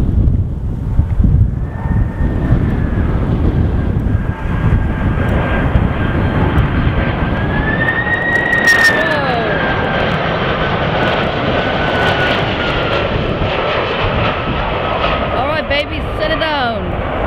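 A Boeing 747 jet airliner comes in to land, its loud, steady engine roar filling the whole stretch with a rising whine partway through, heavy wind buffeting the microphone throughout.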